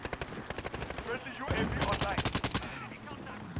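Automatic gunfire in the shooter game Call of Duty: Modern Warfare crackles in rapid bursts, with a denser, louder volley in the middle of the stretch, while a player talks over the shots.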